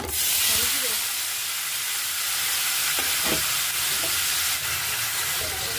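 Quarter kilo of chopped tomato pieces with cumin seeds dropped into two tablespoons of hot oil, giving a steady, loud sizzle and hiss with faint stirring scrapes, no talking.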